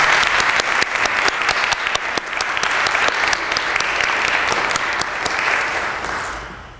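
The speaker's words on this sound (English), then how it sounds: "let's give all of them a nice round of applause" Sustained audience applause fills a Sigma Theta Tau nursing honor society induction ceremony at Keuka College: dense, steady clapping from a full room that holds even throughout, then tapers off softly at the end.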